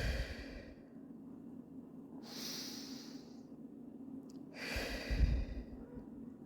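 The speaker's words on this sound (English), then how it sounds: "A very powerful breathing exercise." Two slow, deep exhalations from a breathing exercise, each a soft, airy whoosh lasting under a second, heard up close with a quiet pause between them.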